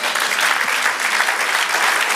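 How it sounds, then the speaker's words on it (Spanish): A church congregation claps steadily and loudly for about two seconds, a dense, even patter with no voices breaking through. "Dale un aplauso al Señor."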